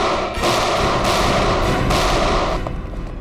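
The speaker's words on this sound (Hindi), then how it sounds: "Firing range." Gunfire at a police firing range, loud booming reports about once a second that mostly blend into a continuous roar, close and heavy, with no voices over them.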